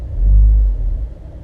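Deep bass rumble from a 2016 Mazda 3 GT with a 2.5 L 185 HP engine fitted with Super Pro Street 9000 mufflers, swelling loudly at first then settling into a steady low drone.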